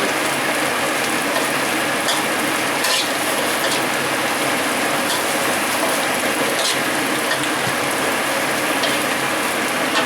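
Chillies stir-frying in a hot pan for Thai beef kra pao, a loud, steady dense sizzle with occasional scrapes and clicks throughout.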